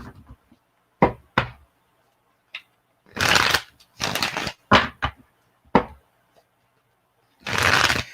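Tarot cards being shuffled and drawn, heard as a series of sharp taps and slaps followed by several longer riffling bursts, close and fairly loud, with no speech over them.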